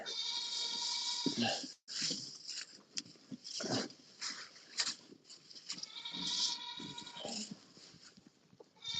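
Goats bleating repeatedly in long wavering cries, loud and close, several overlapping with brief pauses between calls.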